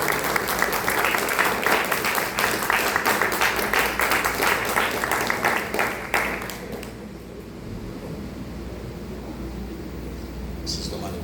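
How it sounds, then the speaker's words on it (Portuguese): A church congregation at a family worship service claps in dense, sustained applause that fills the room, then fades after about six seconds into a low roomy hum with a brief faint rustle near the end. "Se puder desocupar as suas mãos, aplauda ele"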